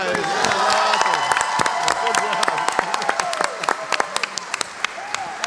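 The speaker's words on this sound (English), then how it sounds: "Give it a round of applause." Audience applause at a Pensacon 2016 convention panel on Mallrats, dense clapping from a large crowd with scattered cheers, loud and sustained, then thinning into sharper individual claps toward the end.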